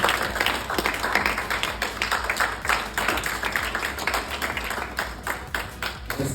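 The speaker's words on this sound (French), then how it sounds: "Sous vos acclamations." Applause from an audience at a French-speaking Toastmasters club meeting as the Toastmaster is introduced, a sustained patter of many hands clapping at moderate level for several seconds.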